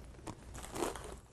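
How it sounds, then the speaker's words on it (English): Someone bites into and chews a potato chip, giving a few soft, close crisp crunches with one slightly stronger crackle in the middle. "For most of us, eating a potato chip sounds like this."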